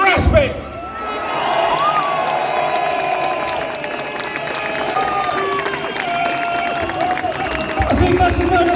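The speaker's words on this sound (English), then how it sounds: "I think that's the round of applause for David Icke." An audience applauds and cheers for David Icke, a continuous roar of clapping and crowd noise with a voice carrying over it throughout.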